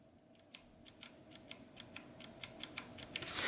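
Keys on a Razer BlackWidow Chroma V2 mechanical keyboard with Razer yellow switches are tapped in a quick, even run of soft clacks close by, getting slightly louder toward the end.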